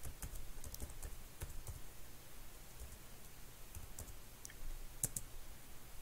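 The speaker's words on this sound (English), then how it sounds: "Then you can create a user, net user Biden, type a password." Quiet clicking of computer keyboard keys as a password is typed, a short run of light, irregular keystrokes over a low hiss, no voices.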